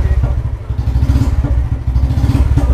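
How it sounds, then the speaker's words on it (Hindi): A Royal Enfield motorcycle idles steadily right after starting, its single-cylinder thump repeating in a loud, even low-pitched rhythm close by, with no talk over it. "सबसे पहले आपने अपनी गाड़ी को स्टार्ट करना है। आप गाड़ी स्टार्ट कीजिए,"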